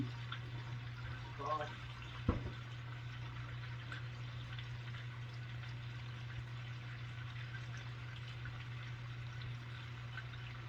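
Tap water running steadily while hands are washed of bacon grease, a low continuous splashing flow with a steady hum underneath and a brief clatter early on.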